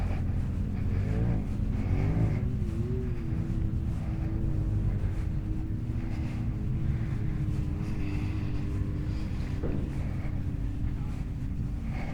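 Vehicles, including ATVs, driving on the red sand beach at Sand Hollow State Park in Utah: a continuous engine drone with shifting revs, heard outdoors under heavy wind buffeting on the microphone.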